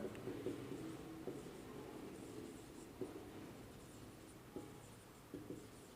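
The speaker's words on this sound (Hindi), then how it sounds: "तो मैं लिखता हूँ" Marker writing a question on a board during an alphabet-series reasoning class, with soft scratchy strokes and small taps in an irregular rhythm, close and faint, no talking.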